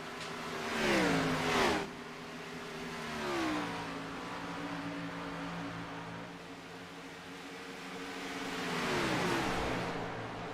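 Race cars at Charlotte Motor Speedway, several passing in turn: a close engine roar with a falling pitch, then a quieter hum from cars further off, and another swelling pass near the end.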